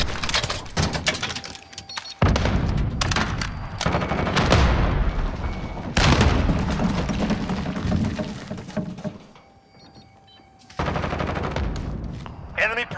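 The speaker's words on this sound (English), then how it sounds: "The sentry gun on station." A sentry gun fires in a video game, unleashing dense bursts of rapid automatic gunfire that are loud and close, broken by a few short lulls, with game voices partly buried in the din.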